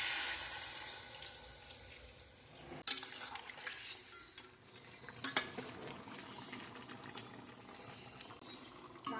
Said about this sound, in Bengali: এর মধ্যে জল দিয়ে দিচ্ছি।